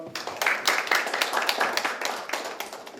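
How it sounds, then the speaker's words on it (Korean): At a policy forum on civic meditation education, a small audience claps to welcome a presenter, a modest, uneven patter of hands that stays moderately quiet throughout. "박수로 모시겠습니다."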